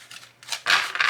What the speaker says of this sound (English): So right now I'm shuffling cards from the 4 Agreements deck.